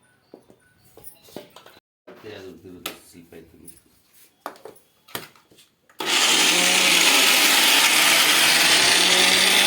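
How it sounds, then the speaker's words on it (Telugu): People talk briefly, then a motorized wet grinder grinding lentils starts up abruptly and runs loud and continuous, a dense whirring grind. "ఇంకా పప్పు గ్రైండర్ పడుతుండు."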